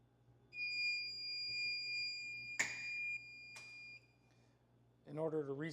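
A shrill electronic beep tone from a pizza timer alarm sounds steadily for a few seconds with a couple of sharp clicks, then a voice begins speaking.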